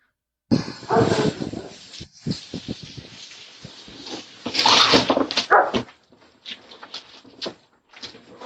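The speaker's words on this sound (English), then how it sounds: "don't let that dog out, dude" A dog barks and whimpers nearby in loud, irregular bursts, with yips and whines trailing into quieter whimpering toward the end.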